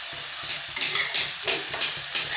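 Chickpea leaf greens are sautéed in a pan, with a close, loud sizzle broken by quick rhythmic stirring scrapes about every third of a second, with no talking.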